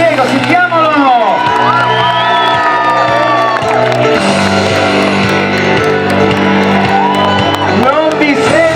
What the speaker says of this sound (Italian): sentiamo l'urlo generale di tutta la piazza per scaldare un po' Diego